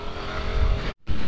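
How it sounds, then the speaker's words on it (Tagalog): A Sniper King 150 motorcycle engine running steadily and close up, a broad, loud drone that cuts out abruptly for a moment before resuming. "ito yung motor ni Norris dyan. Sniper King 150."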